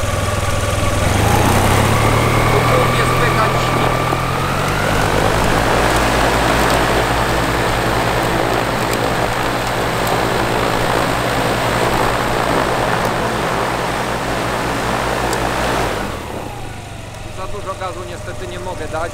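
A paramotor engine runs steadily at a fairly loud, near drone, its pitch rising slightly early on as the throttle opens, then holding before cutting sharply to quiet near the end.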